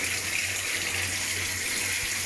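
Hot water running into an Electrolux top-load washing machine, LEC14/LEJ14 type, through replaced inlet valves: an even, continuous rush of filling water with a soft low hum beneath, nearby and uninterrupted, no voices.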